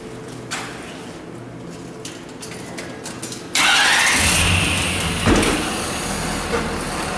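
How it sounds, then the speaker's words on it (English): Vehicle fitted with snow chains is started and driven forward briefly; faint idle and clicks give way to a sudden loud engine roar that holds and slowly eases, no voices. "we're going to drive it forward with the chain in that position real quick"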